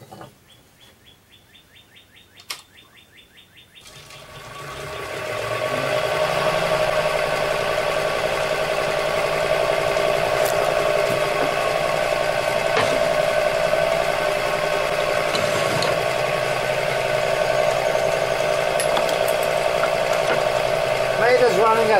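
A wood lathe turning a segmented Ipe bowl spins up at 650 RPM after a few quiet seconds with birds chirping, then holds a steady, loud mechanical hum and whir close by.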